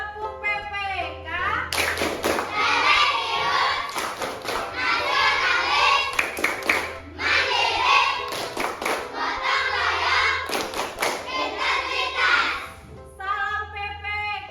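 A classroom of students does the PPK rhythmic clap, repeated bursts of patterned group handclapping interleaved with children's chanting voices, loud and near, with a teacher's voice briefly at the beginning and end.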